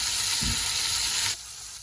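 Turmeric, cumin, coriander and cloves frying in a hot pan with a steady loud sizzle and a brief stir, the hiss dropping in intensity toward the end.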